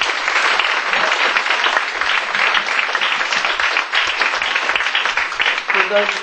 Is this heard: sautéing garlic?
no